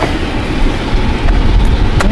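Tow truck power take-off engaging, with a loud, close, low engine rumble and mechanical drone running steadily throughout, plus a couple of faint clicks.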